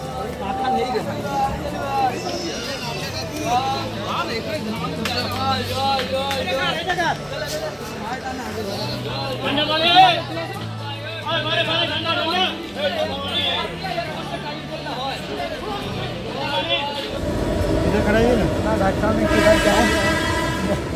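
The Paharia Express 15722, running from Howrah to Digha, sits halted at Tamluk station amid a steady hum of platform chatter and train rumble, with a louder broad hiss rising near the end.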